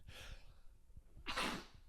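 A single close sneeze preceded by a quick inhaled gasp, fairly quiet overall with faint breathing around it.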